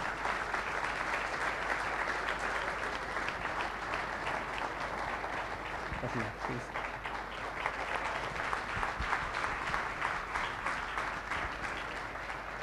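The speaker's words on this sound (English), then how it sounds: "big round of applause for Miss Manisha Koirala" A large audience applauds steadily and loudly throughout, welcoming actress Manisha Koirala onto the stage for a dialogue with Sadhguru at the Take Pride 2016 event. The dense clapping stays even from start to finish with no talk over it.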